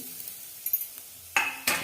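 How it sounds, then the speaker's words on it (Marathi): Grated coconut sautéing in hot ghee, with a brief sizzle and a few scraping stirs of a spoon against the pan near the end, quiet and close with no talking. "हे खोबरं पण तुपात टाकून घेते"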